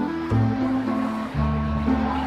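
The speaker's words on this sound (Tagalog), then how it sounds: "Sobrang agos!" Strong current of the Bagsit River in Zambales rushing over rocks, a steady loud broadband roar with deeper surges, close by.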